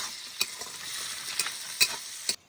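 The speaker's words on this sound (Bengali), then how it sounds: "এবার পেঁয়াজ ভালো করে ভেজে নেব।" Chopped onion fries in hot oil in a pan, a steady close sizzle punctuated by several crisp clicks of a spatula stirring, ending abruptly, with no speech.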